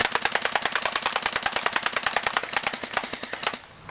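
A custom airsoft M4 rifle fires a rapid burst of BBs into pizza boxes, a fast even rattle of sharp snapping shots for about three and a half seconds, close and loud, then stops.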